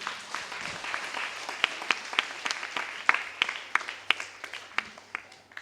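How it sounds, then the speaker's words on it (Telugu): A church congregation breaks into scattered applause after a prayer, with sharp individual claps standing out over a softer background patter for several seconds before it thins out. "ఆత్మతో ప్రభువుకు ప్రార్థన చేసిన వాళ్ళందరూ గట్టి చప్పట్లు కొట్టండి."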